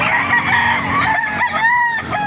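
A White Kelso rooster crows loudly and close by at a market, its long wavering call carrying over steady background noise.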